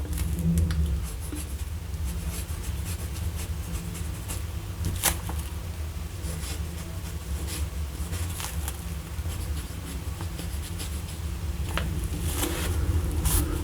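Pelikan Jazz Noble fountain pen with a medium nib and Royal Blue ink scratches across paper in a close, steady stream of soft strokes, scattered with sharper ticks, with no talking.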